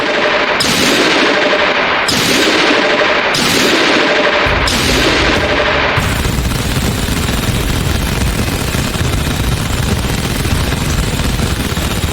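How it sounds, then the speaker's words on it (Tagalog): Rapid bursts of machine gun fire from an anime battle, several sharp volleys in the first half giving way to a dense, sustained roar of gunfire, loud and close with no talking. "Double machine gun!"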